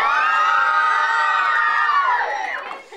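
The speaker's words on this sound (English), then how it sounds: "big round of applause for Auntie May" A children's church audience cheers and shouts loudly for about two and a half seconds, a dense chorus of young voices that fades out quickly at the end.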